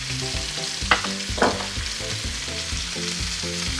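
Chicken fajitas sizzling in a pan on medium-high heat, a steady loud frying hiss broken by rhythmic stirring and tossing clatters.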